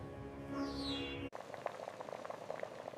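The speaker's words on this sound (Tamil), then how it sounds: "வெல்லம் நல்ல கரையை நன்றாக கொதிக்க வைக்கணும்." Thick jaggery syrup bubbles and pops softly in a pan close by, following a brief steady hum that cuts off abruptly.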